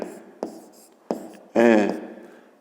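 A pen or marker scratches out short labels for the faces of a solid in a fifth-grade maths exercise, a few brief strokes followed by a louder burst, with a voice speaking in between.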